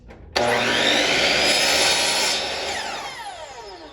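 Miter saw cutting a beveled corner on wood: a sudden loud whine as the blade bites in, a steady high cutting roar, then the motor winding down at the end.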